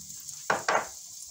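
Onions dropped into a hot pan for a bacon and cheese omelette, two quick bursts of sizzling one after the other, close and brief against a quiet background.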